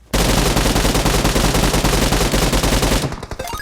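Sustained automatic gunfire in the mobile game PUBG Mobile, a loud rapid burst of shots lasting about three seconds before cutting off into a few scattered quieter pops.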